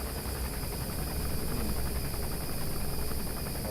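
Enemy gunship helicopter in Metal Gear Solid V, a steady, dense rotor-and-engine drone held at a constant level throughout, with no voices over it.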